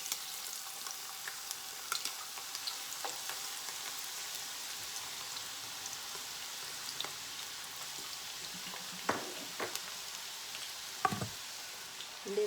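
Six garlic cloves sizzle in hot olive oil for a shrimp dish, a steady close-up hiss with scattered pops and crackles throughout.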